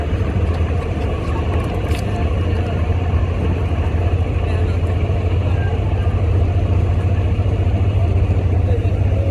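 A river passenger launch's engine runs with a loud, steady, low rumble that stays constant throughout, close by and unbroken, with no talk.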